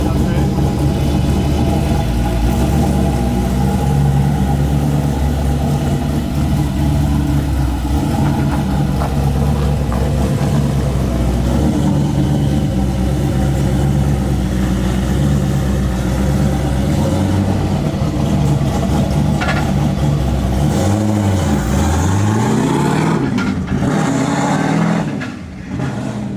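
A C6 Corvette engine runs loud and steady while the clutch is slipped, a dense droning roar that holds for most of the stretch, then revs rise and fall near the end.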